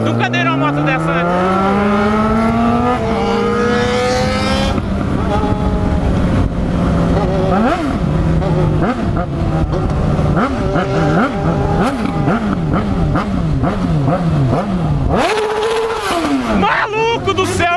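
A Suzuki SRAD 1000 motorcycle engine revving hard while being ridden, with loud rising pitch sweeps through repeated gear changes, close and continuous, with a voice audible at moments.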